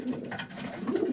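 Pigeons coo softly in a loft, a close, steady murmur of low throaty calls lasting about a second with no talk over it.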